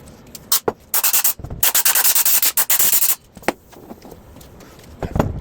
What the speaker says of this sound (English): we're going to get over to the Sandblaster real quick.